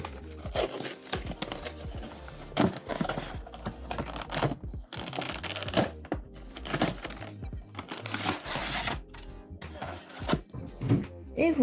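Pokémon Latias Mega Evolution card box set being opened by hand, with crisp crinkling, tearing and rustling of cardboard and plastic packaging in repeated close bursts, a little voice faintly underneath.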